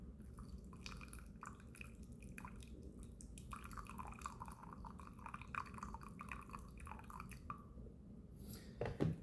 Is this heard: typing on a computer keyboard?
no